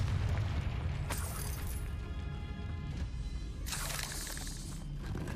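A Confringo spell blows apart in Hogwarts Legacy, with a loud crashing blast and shattering debris, then a second bright burst a few seconds later over constant rumbling low noise, no voices.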